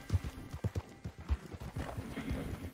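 A stolen horse's hooves clip-clop in an irregular gait in the video game Red Dead Redemption 2, with a few heavy, close thuds standing out over a soft background.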